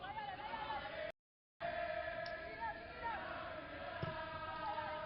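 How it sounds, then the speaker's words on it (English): Malaysian supporters at an AFF Cup football match against Cambodia sing a familiar tune together, a broad, sustained crowd chant with wavering melodic lines, steady and fairly loud in the stadium, briefly cut by a gap of silence. "the Malaysian crowd now breaking into song, a familiar tune"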